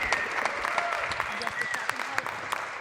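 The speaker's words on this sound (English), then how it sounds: "Let's give him one more big round of applause." Applause from a gala crowd at the Chicago Waldorf School Sun & Moon Gala, a moderate, steady patter of clapping with occasional sharper claps and faint voices mixed in.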